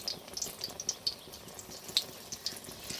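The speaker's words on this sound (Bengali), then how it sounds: "এরকমভাবে সবগুলো ভেজে নেব" Thin-sliced eggplant fritters (beguni) frying in hot oil, a soft sizzle with scattered bright pops and crackles, steady and close with no talking.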